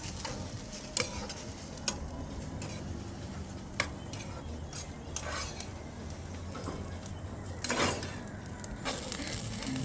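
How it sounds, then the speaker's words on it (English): Vegetable stir-fry rice being stirred in a pan, a steady low sizzle with scraping and a few sharp utensil taps against the pan, no talking. "And I'll stir this up."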